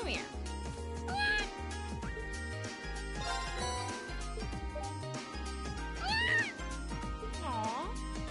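A cat meowing in a video game: several high, bending meows rising and falling over a background of game music, each cry short and repeated at uneven intervals.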